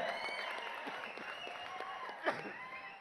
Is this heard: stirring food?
no